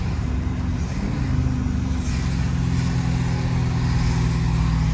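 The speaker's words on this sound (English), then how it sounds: "But yeah, man, bro, we driving. It's raining." A car drives through rain, giving a steady low road and engine rumble with a broad wash of tire spray and rain hiss heard from inside the vehicle.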